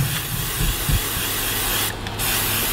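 Carburetor cleaner sprayed from an aerosol can onto a brake part, a steady loud close hiss for nearly three seconds with a brief dip near the end.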